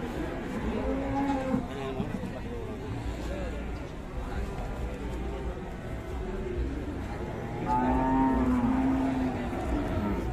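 Cattle at the Pasar Wage Pati livestock market give several long, low moos, one near the start and a louder one near the end, amid busy market chatter and background noise.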